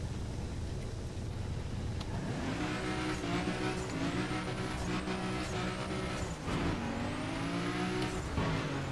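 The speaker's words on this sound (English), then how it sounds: "Nissan Skyline in monster truck spec." Nissan Skyline built to monster truck spec in The Crew, its engine revving and shifting through repeated rising gear pulls, loud and close with a low rumble and whine, no talk.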